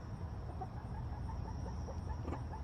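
Backyard hens cluck softly in short, scattered bursts close by over a steady background hum, with no talking.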